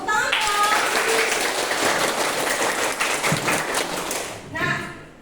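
A classroom group clapping together after a history lesson, dense continuous applause filling most of the moment before fading, with a voice briefly at start and end.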